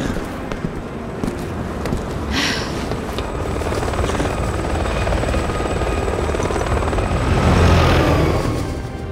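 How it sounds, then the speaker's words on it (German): A helicopter in the action game Resident Evil 6 thrums loudly and steadily throughout, its rotor chop swelling nearer toward the end, with occasional sharp impacts layered over it. "Wir verstecken uns vor dem Heli."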